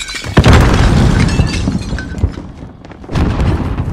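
A frag grenade detonates in the Warzone video game, a loud close blast with a crackling, shattering tail that fades and then swells again.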